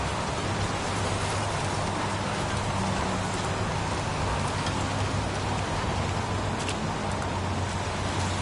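Steady, dense rain falls in a PS4 video game, a constant even hiss with occasional pattering drops and no pauses.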